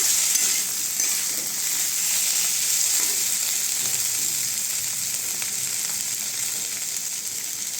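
Onion, tomato, turmeric and mashed potato fry in a pan for aloo masala, a steady close sizzle that slowly eases off toward the end.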